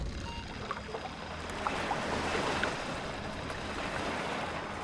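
A boat in the video game Amerzone pulls away under throttle, giving a steady broadband wash of water and engine rumble that holds level throughout with no talking.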